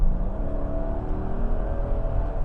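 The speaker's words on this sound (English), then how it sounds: "if I give it a little bit of throttle" A 2003 Mercedes-Benz SL500 roadster engine, driven with a light touch of throttle, hums steadily and gently rises in pitch as it picks up speed, heard close from inside with no talking.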